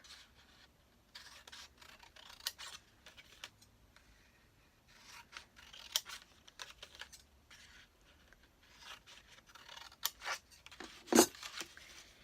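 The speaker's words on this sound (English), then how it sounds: "I'm going to cut from the corner about 3/4 of the way up." Scissors snip through paper in a string of quiet, crisp cuts and rustles, close and faint, with short pauses between bursts and no talking.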